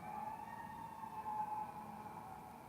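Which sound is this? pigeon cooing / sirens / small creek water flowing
sirens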